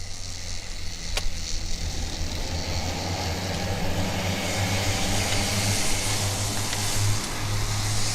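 Mini-class racing karts at the IAME Nordic Cup 2025 rounding the final corner, a sustained droning engine buzz rising and falling as the karts pass, with a broad background rumble.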